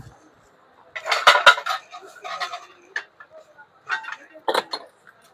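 Heavy golden stainless steel spoons clink together as they are handled, giving several bright, close metallic taps in short irregular bursts with brief pauses between them.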